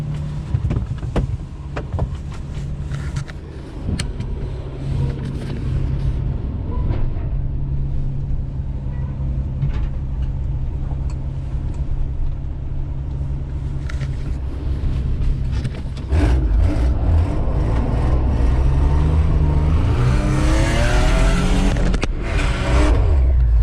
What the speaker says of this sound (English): Oh, maybe she doesn't idle too good.